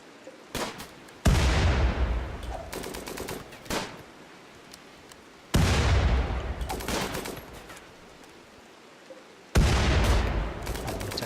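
Gunfire from colonists attacking an insect hive in the RimWorld video game, heard as three loud bursts of rapid shots, each breaking out abruptly and trailing off into scattered shots, with brief quieter gaps between them.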